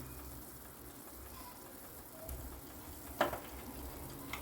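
Sugar syrup bubbling in an open pot, a soft continuous simmering hiss with a few light clinks and one louder knock near the end.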